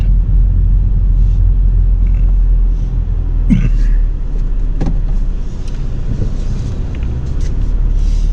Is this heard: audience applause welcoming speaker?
no